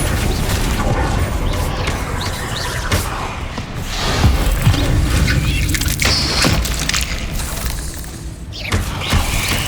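Spells cast in Hogwarts Legacy during a goblin attack on Feldcroft, heard as a dense run of loud booming impacts, crashes and shattering bursts layered over steady game noise, with several sharp hits spaced irregularly through the stretch.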